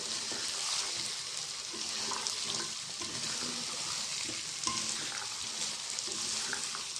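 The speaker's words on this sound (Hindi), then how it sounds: "मटर इसमें ऐड करते हैं और साथ ही आलू भी ऐड कर देते हैं और इनको तकरीबन 10 से 15 मिनट तक अच्छे तरीके से भून लेते हैं।" Peas and potatoes fry and are stirred in a pan for a mixed-vegetable dish, giving a soft, steady sizzle with faint scraping of the spoon and no talking.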